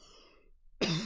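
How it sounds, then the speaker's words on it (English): A single harsh cough from a person, sudden and close after a stretch of near silence, loud and brief with no talk over it. "I don't know what I'm coughing from, but it's not good."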